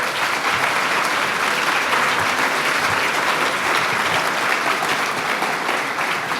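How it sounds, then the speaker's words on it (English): A crowd applauds after a fife and drum corps performance at a July 4th event at the National Archives, steady and full for over six seconds with no break. "So another round of applause to all of you."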